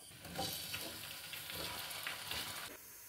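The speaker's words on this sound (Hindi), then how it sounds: "चिकन को हम तकरीबन 5 मिनट फ्राई करेंगे।" Chicken frying in a pan with browned onions, a steady broadband sizzle running close and continuous throughout, with brief stirring scrapes rising and falling over the hiss.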